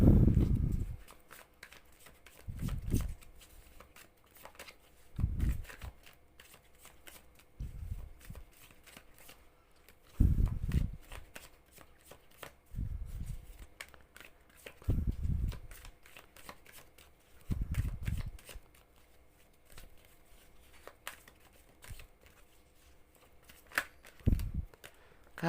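Tarot cards being shuffled by hand in repeated bursts, each a loud riffling rush followed by quieter handling and tapping, recurring roughly every two to three seconds, close and clear with no talking.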